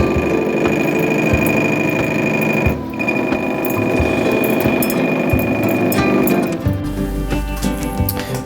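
Steady loud machining drone of a lathe cutting a crankshaft for a handbuilt 150cc four-stroke race engine, a continuous dense whirring with rhythmic chatter, shifting in tone near the end as the cut changes.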